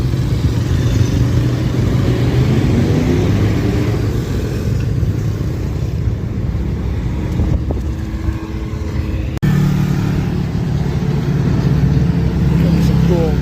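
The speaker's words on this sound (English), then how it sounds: "Comes a cool gasser." A gasser-style hot rod rolling past at an evening car show in Moab, Utah: a continuous loud engine rumble fills the whole stretch while someone talks over it nearby.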